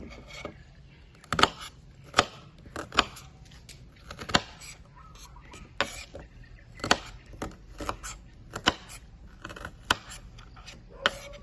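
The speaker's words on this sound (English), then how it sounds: "we cut the red onion into small pieces" A knife chops red onion into small pieces on a board, a series of sharp, distinct chopping taps at an uneven rhythm, close and fairly loud with faint background noise.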